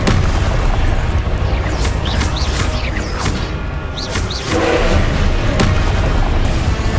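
A Confringo blasting spell from Hogwarts Legacy going off as a loud, close booming explosion within a dense, continuous roar of combat noise, with a few sharp whooshing accents.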